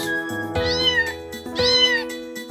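A cat meows twice, drawn-out and fairly loud, over steady background music.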